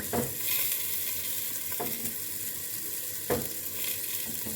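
Tamarind with its seeds cooking down in a pan, a soft continuous sizzle with three distinct stirring scrapes spaced about a second and a half apart, close and moderately quiet.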